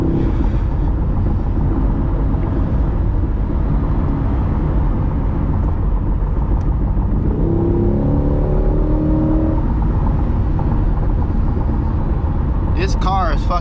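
A 2023 Corvette C8 driving and accelerating, its engine making a loud, steady, close rumble throughout with a rising tone partway through; a voice speaks over it.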